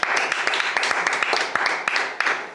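A church congregation applauds in steady, dense clapping with a few sharper individual claps standing out, sustained at even loudness throughout.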